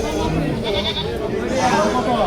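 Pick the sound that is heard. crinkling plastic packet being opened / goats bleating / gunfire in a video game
goats bleating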